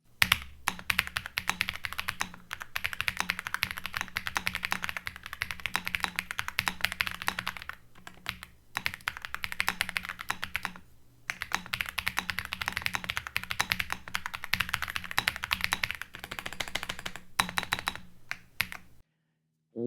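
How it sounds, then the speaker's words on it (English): Continuous typing on a K86 Pro mechanical keyboard fitted with custom switches, a steady run of close, soft clacking keystrokes with two brief pauses, heard alone without talk. "It's a comforting, soft noise that comes off the hi-fi custom switches."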